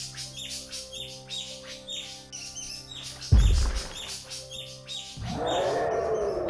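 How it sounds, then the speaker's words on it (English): Birds scatter from a forest canopy in a dense flurry of overlapping chirps and tweets, joined midway by a sudden heavy rumble and then a loud, sustained roaring wash that swells over the calls. "Birds fled from the canopy."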